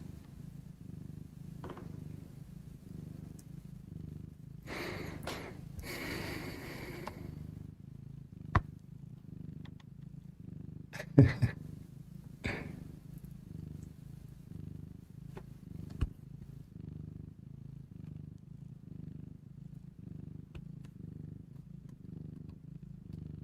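A cat's purr woven into a sound healing track, a steady low rumbling hum running throughout, with a few faint brief clicks and a soft swell partway through.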